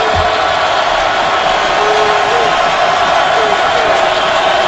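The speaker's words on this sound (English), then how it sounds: "And McLean doing his best to get this crowd going." Stadium crowd at an NFL game between the Steelers and Ravens in 2012, a loud, continuous roar of thousands of fans with scattered whoops and yells, steady throughout with a faint voice underneath.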